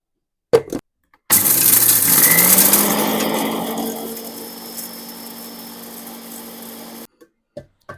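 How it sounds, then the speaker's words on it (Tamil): A kitchen mixer grinder grinds biryani masala for prawn dum biryani, its motor starting abruptly with a loud high whirr that slowly settles into a steadier, quieter hum before cutting off, with faint clicks before and after. "போட்டு நம்ம பிரியாணி மசாலாவில் நல்லா மிக்சியில் போட்டு அரைச்சிக்கலாம்."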